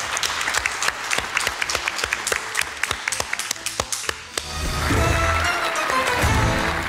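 An audience claps and applauds throughout, with sharp individual claps early that swell into a dense, sustained wave of applause from a crowd at a Macedonian TV competition show.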